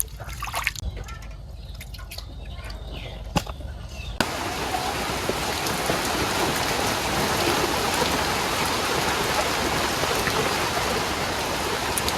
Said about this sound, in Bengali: একটুখানি বৃষ্টি নামছে